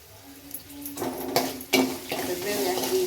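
Curry leaves fry in hot oil for garlic chitranna, sizzling and crackling loudly while a spoon stirs and scrapes the pan, with bursts of spatter building partway through.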